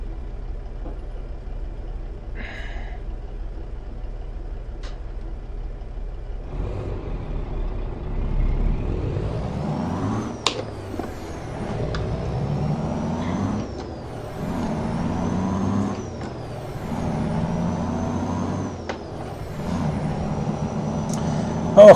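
A Freightliner Classic XL truck in Euro Truck Simulator 2 accelerates, its engine revving up through several gear changes in repeated rising sweeps, with short air brake hisses and a final sharp release.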